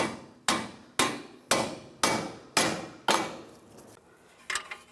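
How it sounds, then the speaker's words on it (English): Sharp metallic hammer strikes tapping strut bolts home on a 2011-2019 Ford Explorer front strut and spring assembly, six evenly spaced ringing blows about half a second apart, close and clear, followed by a few lighter clinks. "Just give them a tap with the hammer."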